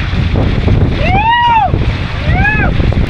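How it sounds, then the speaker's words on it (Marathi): Strong wind buffets the microphone near Katraldhara waterfall in a valley, a loud continuous roar, while a voice makes two rising-and-falling vocal swoops over it. "आणि असला वारा मारतोय भाई खतरनाक"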